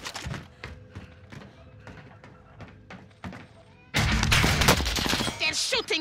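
Video game gunfire from Call of Duty: Modern Warfare, scattered sharp shots at first, then a loud dense burst of fire in the last two seconds, with a voice talking in places.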